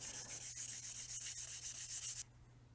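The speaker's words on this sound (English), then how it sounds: "Since this is a test piece, I'm going to keep going, see how far I can sand it." Sanding textured, bumpy paint on a bicycle frame test piece by hand: rhythmic back-and-forth rasping strokes, close and fairly loud, that stop abruptly near the end.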